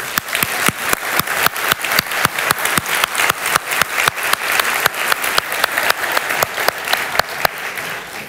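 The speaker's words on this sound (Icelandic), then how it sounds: "Mér langar að gefa tæknimönnum gott klapp" An audience at a church gathering claps together in a steady, rhythmic unison beat, sharp even claps repeating roughly three times a second, close and clear without talk.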